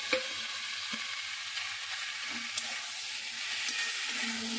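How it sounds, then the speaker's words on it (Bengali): A hilsa fish head fries in a pan and is stirred: a steady, close sizzle with soft scraping stir strokes running throughout, no voices. "একটু নাড়াচাড়া করে একটু ভালো করে কষাই করে নিচ্ছি।"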